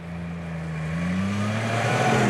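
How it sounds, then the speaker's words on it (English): A 2004 Ski-Doo Elite twin-track snowmobile with a 1500cc engine accelerates, its steady engine drone rising in pitch and growing louder over about two seconds. "pushing this big sled with the big tracks with that big 1500cc engine"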